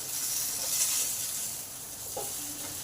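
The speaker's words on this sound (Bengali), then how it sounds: "পেঁপেগুলো আমার ভালোভাবে ভাজা হয়ে গেছে" Papaya pieces frying in hot oil in a pan, giving a steady soft sizzle and hiss that stays fairly even and close, with no talking.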